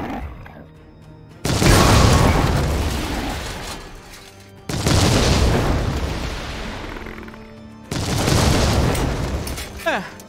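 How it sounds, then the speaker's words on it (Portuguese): Three heavy explosions go off in the Warhammer 40,000: Chaos Gate - Daemonhunters strategy game, each a sudden loud boom that rolls off into a long rumbling decay, spaced a few seconds apart. "Rezar pra explosão não pegar ali em cima, no nosso chaplain."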